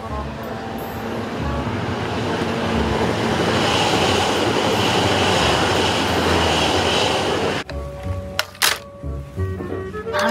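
A toy high-speed train rumbles steadily with a dense, continuous rushing roar, then stops abruptly, followed by a few sharp clicks and clacks.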